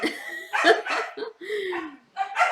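Dogs barking and yelping nearby in short, uneven bursts, some high-pitched and whiny, with brief pauses between.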